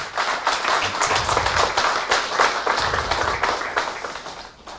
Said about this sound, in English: I would like a round of applause.